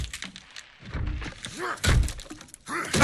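Fence boards breaking in the Texas Chainsaw Massacre video game: a series of heavy wooden thunks and cracking impacts, several blows spread over a few seconds, loud and close, with no talking.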